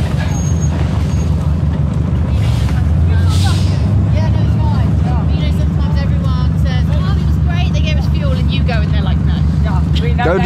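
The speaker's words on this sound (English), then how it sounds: "The Subaru engine in the VW Combi. You can hear them from afar." A Subaru engine fitted in a VW Combi van drones loudly and steadily up close with road rumble, while people talk over it throughout.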